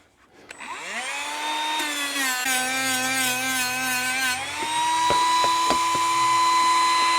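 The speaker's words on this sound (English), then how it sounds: "Just to give me a little bit of a scuff on that paint for a line." A power tool spins up to a high, steady whine while an abrasive scuffs the paint on a steel shooting target, with a shift in pitch midway and a few sharp ticks of contact near the end, close and loud.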